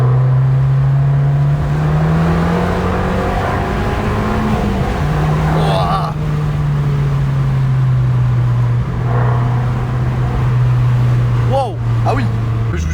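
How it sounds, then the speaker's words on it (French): An Abarth 595 with a catback exhaust and stage 1 E85 tune drones loudly at speed, engine pitch rising and falling through gear changes with a few sharp pops, while people talk over it inside the car. "à chaque fois là qui baisse un rapport ou qui passe un rapport, haut dans les tours ça pète en fait"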